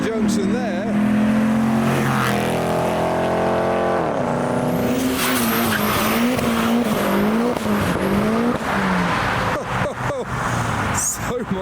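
A Ford Mustang slides sideways out of a junction at a car show, its engine roaring loudly with rising and falling revs and tire squeal running throughout, close by, with crowd voices underneath.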